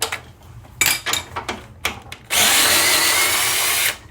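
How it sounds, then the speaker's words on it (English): A small DeWalt power drill, not an impact driver, backs bolts out of a 1955 Chevrolet Bel Air chassis. Several short whirring bursts come first, then one steady, loud run of about a second and a half, up close, with no talking. "can use this little DeWalt again."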